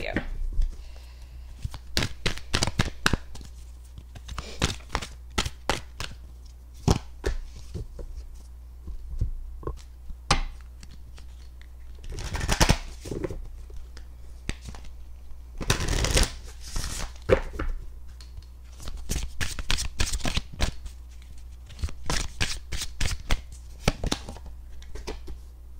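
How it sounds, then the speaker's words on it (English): Rapid riffle shuffles of a tarot card deck, repeated in quick bursts with short pauses, close and crisp over a low steady hum. "I'm going to shuffle the cards first"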